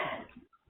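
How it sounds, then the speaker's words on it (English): A single short cough from a person with a cold, close and dry, followed by a faint throat sound as it trails off. "I have a cold, so please bear with me if I cough."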